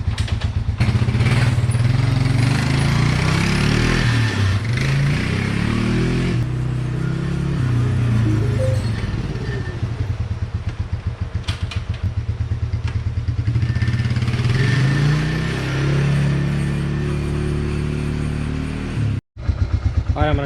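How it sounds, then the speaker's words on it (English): A Suzuki Quadrunner 500 ATV engine running continuously on a test ride after a backfire and no-rev fault was repaired, with a loud, steady drone that rises and falls with the throttle. "You can hear the quad is running way better now,"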